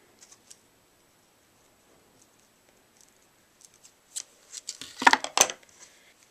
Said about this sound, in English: you just take and you cut a nice length off of the ribbon